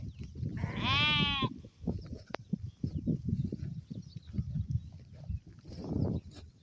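Sheep on a pasture bleat once, loud and close, in a wavering call. Scattered handling noise and low rustling follow, with a fainter second bleat near the end. No one speaks.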